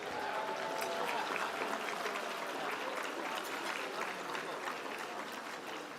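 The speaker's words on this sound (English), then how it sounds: "let's have a round of applause for all of our scholarship supporters" An audience at a National Federation of the Blind convention banquet gives sustained, even applause for several seconds, a dense wash of clapping that fades only slightly toward the end.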